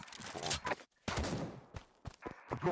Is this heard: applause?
no